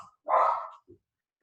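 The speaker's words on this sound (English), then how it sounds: "that's my dog barking at the mailman." A single dog bark from a nearby room, one loud burst followed by a faint short yelp, with no talking over it.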